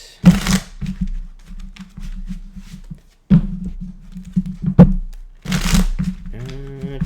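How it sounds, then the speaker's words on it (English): Tarot cards are shuffled by hand in a deck, several brisk riffling bursts separated by short pauses, close and crisp, ending with a brief tonal sound. "Two more shuffles here"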